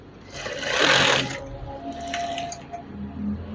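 Sewing machine stitching curtain fabric, a steady mechanical whir that rises loud for about a second, then continues more quietly with faint clicks and hum.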